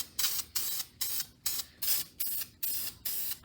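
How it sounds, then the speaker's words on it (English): An aerosol can sprays primer onto rear brake calipers in eight short, even hissing bursts with brief gaps between them, close and fairly loud. "and then we'll spray our primer"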